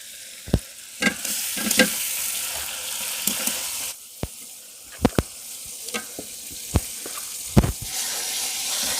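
Hot oil sizzles softly in a pan as pieces of a giant fish fry for pepper masala, while sharp spattering pops and clacks of a utensil break through at irregular moments, close and fairly loud, outdoors in a village.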